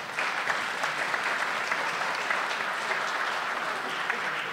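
A conference audience at a regional meeting on the third industrial revolution in Fourmies applauds, a dense, even wash of many hands clapping without pause, fairly near and unaccompanied by speech.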